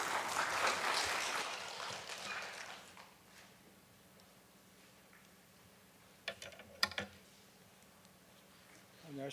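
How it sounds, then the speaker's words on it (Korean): A church congregation applauds to welcome an elder forward for a testimony, a burst of clapping that dies away within a few seconds, followed by quiet room tone and a few faint knocks. "박수로 맞이하도록 하겠습니다."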